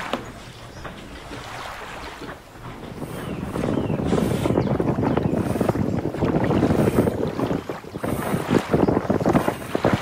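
An SD 480 catamaran sails on the open ocean, with loud wind buffeting the microphone and rushing water around the hull. The sound builds to a strong, continuous roar and no one speaks.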